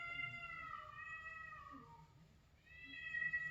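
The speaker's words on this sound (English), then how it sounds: "Cats just started fighting here." Cats fighting outdoors: sustained, wavering yowls and caterwauling that dip briefly and then rise again, moderately close against a low steady hum, with no talking.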